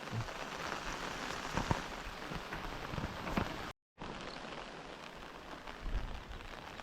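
Heavy rain pours steadily onto a farm field, a dense, even patter with occasional louder drops and one brief dropout partway through.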